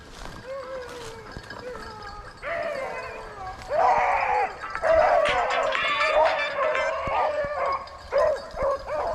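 Rabbit-hunting dogs bay and howl along a trail, several drawn-out cries and yelps overlapping in irregular bursts, growing louder and more excited partway through, with faint background noise.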